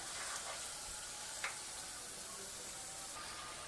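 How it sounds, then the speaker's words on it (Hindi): Chicken and kachnar buds fry in a pan while their water cooks off, a soft continuous sizzle with one brief scrape of stirring, quiet and without speech. "पानी खुश्क होने तक हमने इसको अभी अच्छी तरह से भूनना है।"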